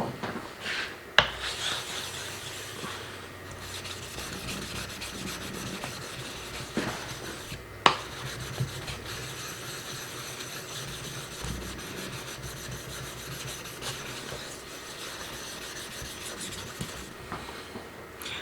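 A knife blade is drawn across a 1000-grit ceramic whetstone in a steady run of rasping, scraping strokes, close up and fairly quiet, with a couple of sharper clicks where the blade meets the stone.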